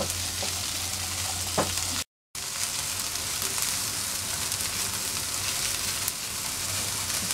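Okra (bhindi) sautés in a pan over medium flame for masala bhindi, giving a dense, continuous close frying hiss with a few faint stirring touches and a brief cut of silence near the start.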